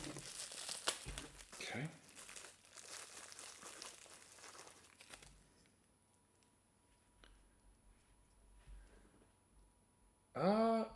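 Plastic packaging around a Heroforge color miniature figure is cut and pulled open, making crinkling and tearing rustles for several seconds up close. A brief spoken word follows, then quieter handling and a final loud crinkle.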